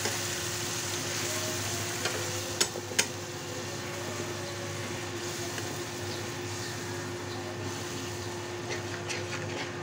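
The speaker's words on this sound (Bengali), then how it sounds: "দিয়ে একটু পানি দিয়ে মশলাটা ভালো করে কষিয়ে নিচ্ছি।" Spice paste of chili powder, coriander powder and salt loosened with a little water, sizzling steadily in a frying pan on an induction cooktop, a continuous close hiss with a couple of sharp utensil clicks early on.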